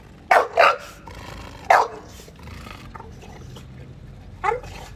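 A dog barks in a series of loud, close barks, two quick ones, a third after a pause and a later fourth, with quiet room noise between them.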